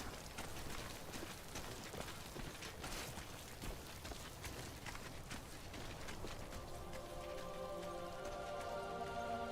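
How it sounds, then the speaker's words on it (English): Rain in Death Stranding, a soft constant patter with crisp drop ticks, later joined by a faint tonal hum as the rain fades into the background. "we're finally out of the rain"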